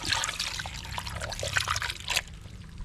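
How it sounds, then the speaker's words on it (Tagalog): Water trickles and splashes as a little is poured over fish seasoned with pepper and salt, a light uneven stream with small drips and sloshes. "Lagyan mo natin ng tubig."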